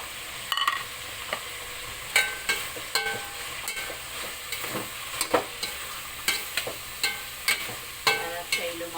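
Carrots tipped into potatoes cooking in a pan for a pork menudo, setting off a steady sizzle and frying hiss, with repeated sharp clatters of a spoon or spatula stirring against the pan at an uneven rhythm, close by and with no talking.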